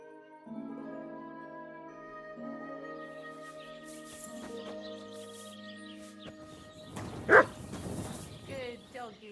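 A dog in the medieval video game Kingdom Come: Deliverance II gives a single sharp bark over a steady musical and ambient backdrop, with a voice talking around it.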